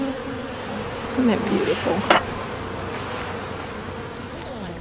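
Honey bees buzz around a hive in a dense, continuous drone, with a few louder passes close by, while a person talks briefly over the swarm.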